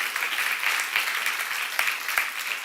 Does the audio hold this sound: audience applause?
yes